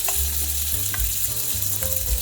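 Panzerotti, Italian stuffed fried pastries, frying seam-side down in oil, a steady close crackling sizzle with brief popping bursts of bubbling oil throughout.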